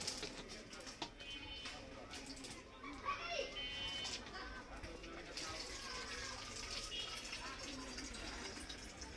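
Water pours steadily from a bottle into an opened Radiant diaper, 500 grams at a time, a continuous splashing rush with voices talking nearby.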